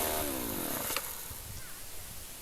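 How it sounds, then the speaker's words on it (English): A McCulloch 3516 chainsaw engine runs with a steady buzzing drone after a new primer/purge pump, revving briefly at first and then settling into a rough idle. "And the chainsaw started just fine the first time."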